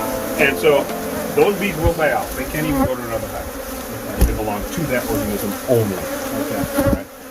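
Dense buzzing of killer bees drones steadily throughout during a hive removal, close and continuous, with a voice talking over it.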